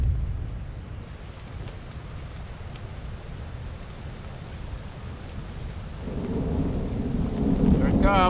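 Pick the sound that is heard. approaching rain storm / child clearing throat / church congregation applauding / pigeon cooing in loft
approaching rain storm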